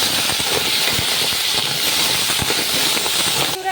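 Crab frying in a pan with turmeric and salt gives a steady, loud hissing sizzle with scattered crackles and pops throughout, and no voices.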